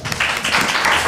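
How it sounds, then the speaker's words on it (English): Audience applause breaking out at a medical academy faculty development session, a dense wash of many hands clapping that swells quickly and holds steady and loud through the short burst. "Big round of applause."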